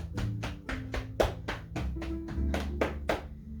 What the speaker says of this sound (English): This time knocking like you're knocking on a door with the fists.